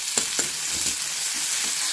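Spices sizzle in hot oil for tempering Maggi noodles, a steady close frying hiss with a few faint stirring clicks.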